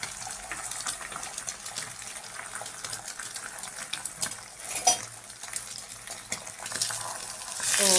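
An egg fries in a pan in a home kitchen, giving a steady close crackling sizzle with scattered clinks and a brief louder spatter near the end; no one speaks.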